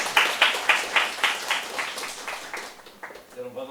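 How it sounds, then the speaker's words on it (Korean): A small audience at a graduate school interpretation and translation admissions information session claps in a brief, rhythmic burst. The applause is fairly close and fades within about three seconds as a voice begins to speak. "큰 박수 부탁드립니다."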